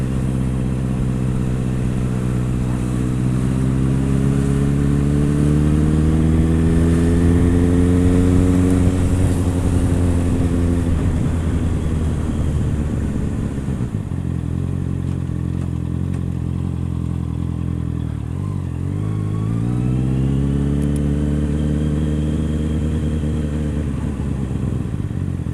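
A Honda CBR650R motorcycle engine pulls steadily while being ridden, its four-cylinder note rising and falling through the revs, loud and close, with no talking over it.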